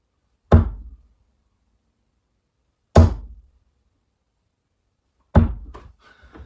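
Three darts striking a dartboard one at a time at even intervals of about two and a half seconds, each a sharp close thunk with quiet between hits, no talking.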